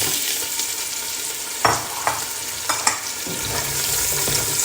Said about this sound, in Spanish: en el aceite en el cual habéis frito ese pollo echáis todas las verduras troceadas